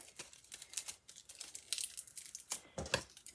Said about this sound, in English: You just roll it, twist it, cut the ends off